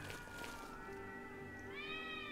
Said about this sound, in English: Is that cats?